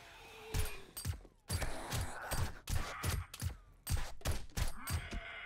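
Bursts of gunfire in 7 Days to Die, about a dozen sharp, loud shots fired in a quick, uneven rhythm close by, with no talk.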